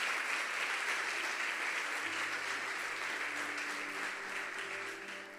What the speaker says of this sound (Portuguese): eu quero que você aplauda Jesus pela vida dele